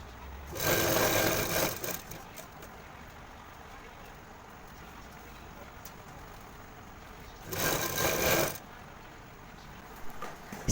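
Two loud stretches of sewing machine stitching, each about a second long, buzz steadily around the edge of a cloth wallet and are separated by a quiet pause.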